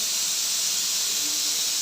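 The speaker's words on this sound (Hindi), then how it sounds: "कुकर में आ रही मेरी सिट्टी" A pressure cooker lets out a steady, loud, continuous hiss of escaping steam in a home kitchen where greens are cooking, with no talking.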